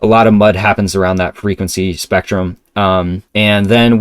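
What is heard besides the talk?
None of the usual background noises is heard.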